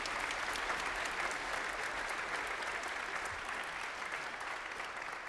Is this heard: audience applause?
yes